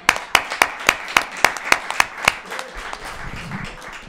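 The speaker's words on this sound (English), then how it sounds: "Let's give them a round of applause." Applause from a live music audience after singers and a violinist perform: a run of sharp, separate hand claps at a steady rhythm, close and clear, gradually thinning out and fading toward the end.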